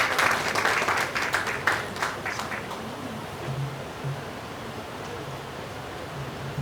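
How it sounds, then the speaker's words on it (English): Audience applause at a book launch in Lagos, a dense wash of clapping that is strongest at the start and then thins into a softer, steady patter with faint voices underneath. "another round of applause"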